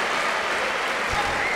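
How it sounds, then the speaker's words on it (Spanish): A crowd of spectators claps steadily at a padel exhibition match in an arena, dense continuous applause with no voices on top. "bate palmas el público, no es para menos."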